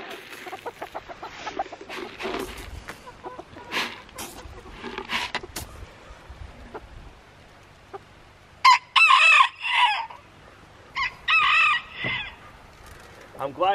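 Backyard chickens cluck and a rooster crows close by outdoors, with scattered sharp clucks early on followed by several loud, drawn-out crowing calls in the second half.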